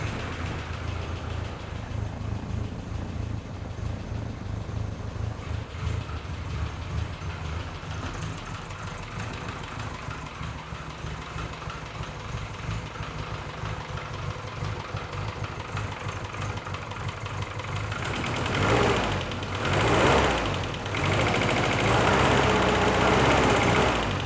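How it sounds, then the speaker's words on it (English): A fuel-injected classic Mini engine idles steadily with a low, even rumble for a long stretch, then revs a little louder near the end. "You can see the engine is running right now,"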